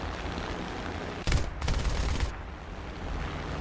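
Aircraft gunfire in the War Thunder combat flight game, a single rapid burst of about a second cutting through steady engine and wind noise.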